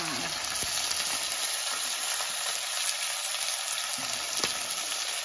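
Chicken fries in hot oil in a village home kitchen, giving a steady close sizzle and crackle with a couple of faint knocks from stirring, no voices.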